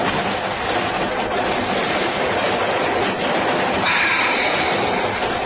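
A Russian train runs on rails with a continuous loud rumbling roar, faint rhythmic clatter of wheels and a brief higher squeal near the end, heard from inside the carriage.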